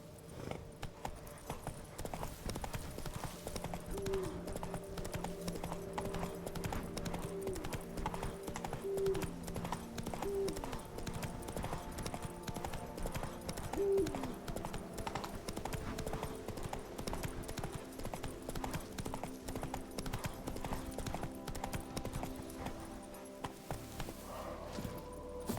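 Roach, a horse in The Witcher 3, gallops with quick, steady, rhythmic hoofbeats that run unbroken at moderate volume, with a faint game soundscape behind them.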